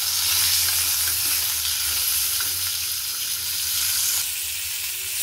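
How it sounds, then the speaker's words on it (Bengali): Raw mango pieces with salt sizzle in a hot pan, a dense, steady hiss filling the stretch with only faint stirring movement under it and no talk. "এই আমগুলো এবার এতে দিয়ে দেবো, দিয়ে নুন দিয়ে দেবো, একটু নেড়ে চেড়ে নেব"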